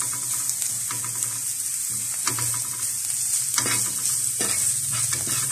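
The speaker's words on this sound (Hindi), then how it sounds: "अब इनको हम अच्छे से फ्राई कर लेंगे।" Stuffed green chillies with spices and mint frying in a pan, giving a steady close sizzle with intermittent stirring scrapes and clinks, no talk over it.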